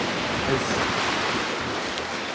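Ocean waves and gusting wind at the beach, a dense continuous wash of surf and wind noise rumbling steadily with no clear breaks.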